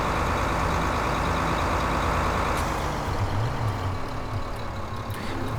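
A tractor of about 140 horsepower in Farming Simulator 15 hauls a big, heavy trailer, its engine drone steady and loud throughout, with a low strained rumble underneath.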